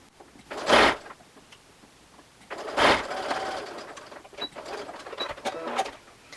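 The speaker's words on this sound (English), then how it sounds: "And then stitch right across. This seam you can use a straight stitch" A sewing machine runs a straight stitch across a seam on a shawl collar, in several short bursts separated by pauses and quieter handling sounds.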